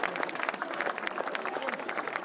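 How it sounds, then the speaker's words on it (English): Crowd applause for the match officials at an Ulster Junior Football Championship final, dense clapping mixed with general crowd noise, short and moderately loud. "so round of applause to the officials"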